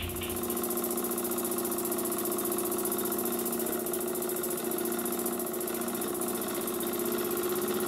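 Burnac Vulcan model steam engine running under a hot burner, giving a steady, continuous mechanical chugging hum with a rapid even beat, close and moderately loud with no talk throughout.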